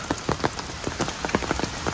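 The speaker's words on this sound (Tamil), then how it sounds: "மழை இரும்படி கொடுக்குதுங்க" Heavy rain falls in a dense forest, a constant close patter of drops striking leaves and surfaces. Louder individual splats pop out of the steady downpour.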